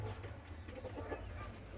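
Newly hatched chicks peep softly on a small farm, their faint, continuous chirping close by against a low background hum.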